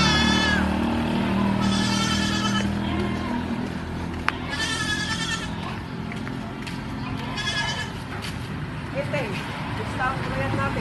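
Several goat bleats rise in separate bursts near the start and middle, alongside a goat that has just given birth, over steady outdoor noise with passing traffic and people talking throughout.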